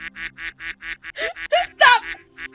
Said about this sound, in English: Too many ducks!